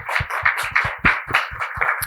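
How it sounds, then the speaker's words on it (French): Short burst of audience applause after an evening event, rapid irregular clapping from a small crowd, close and fairly loud. "on peut les applaudir"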